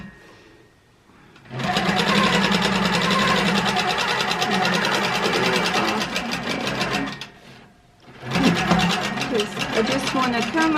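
A sewing machine stitches in the ditch along a quilt seam, running in a steady fast whir of rapid needle beats for several seconds, pausing briefly, then starting up again; near and fairly loud.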